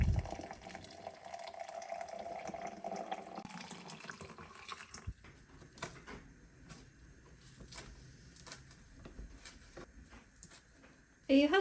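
A kitchen tap runs to fill half a litre of water, a steady rushing pour up close that cuts off partway, followed by clinks and quiet handling noises in a cosy Cornwall home, with a voice speaking briefly.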